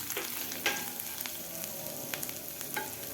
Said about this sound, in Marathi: वाटण आपलं व्यवस्थित फ्राय झालेलं आहे तर यामध्ये घालायचं आपल्याला चिमूटभर हिंग त्यानंतर घालायची आपल्याला हळद